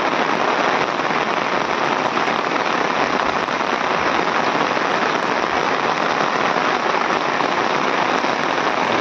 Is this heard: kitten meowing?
no